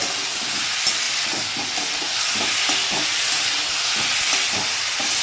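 A cabbage, potato and pea curry with tomato being stirred in a pan, with a steady loud hiss of frying and soft, repeated scraping strokes beneath it.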